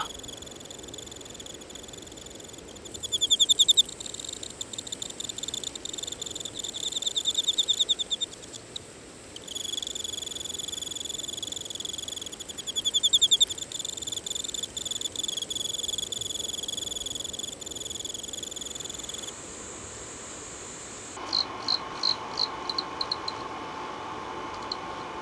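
Autumn crickets chirp in shrill, pulsing trills, several overlapping and stopping and starting in bursts, alone against a quiet night background.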